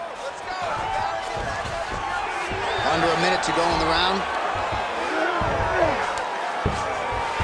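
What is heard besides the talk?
crowd cheering in video game EA Sports UFC 5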